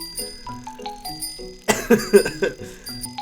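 A bicycle bell rings a few quick times in a Peppa Pig video game, bright and near, layered over light game music and effects.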